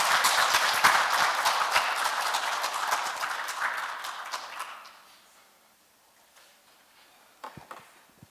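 An audience at a Korean Wednesday morning lecture applauds to welcome a retired senior judge as guest speaker, a steady wash of clapping for about five seconds that fades out, followed by near silence with a few scattered claps.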